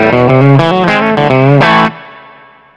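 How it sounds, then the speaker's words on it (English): Electric guitar through a compressor and J-Rocket spring reverb on a clean normal channel, a loud run of plucked twangy notes played in quick succession, ending on a ringing chord that decays into reverb tail. "And now I'll kick in the normal channel with the compressor and we'll see what that sounds like."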